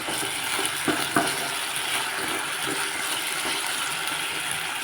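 Potato pieces fry in hot oil in a home kitchen, giving a steady broadband sizzle with a couple of brief clatters of a spoon or pan partway through; no one speaks.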